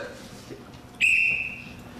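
A referee's whistle is blown once to start an improv game at a live comedy improv night: a sharp, bright, steady blast lasting about half a second, fading into the room's background murmur.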